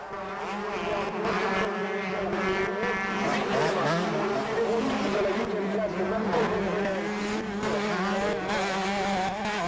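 Honda 125cc motocross bikes race at the 1994 French Grand Prix in Sourdeval on a brutal track, their engines a steady high, buzzing drone throughout, with a commentator talking over them.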